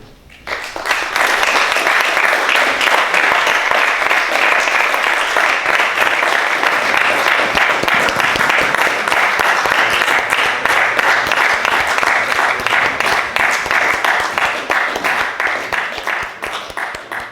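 Sustained audience applause after a lecture on the painter Eduardo Rosales, loud, dense clapping that builds quickly, holds steady for over fifteen seconds and tapers slightly near the end.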